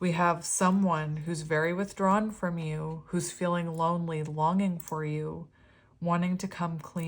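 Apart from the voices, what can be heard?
No distinct noise like a dog, phone or traffic.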